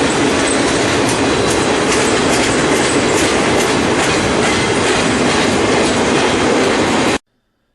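A mixed freight train of ragged old box cars and flatcars rolls past close by with a loud, continuous rumble, rhythmic clickety-clack of wheels over rail joints and faint wheel squeal, then cuts off abruptly.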